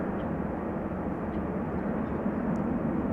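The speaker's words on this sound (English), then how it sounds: "That is the Embraer 190 to Warsaw." An Embraer 190 jet at Amsterdam Schiphol Airport gives off a steady, broad engine roar at moderate distance, unbroken for the whole stretch.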